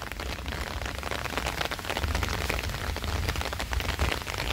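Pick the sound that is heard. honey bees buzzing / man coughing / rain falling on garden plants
rain falling on garden plants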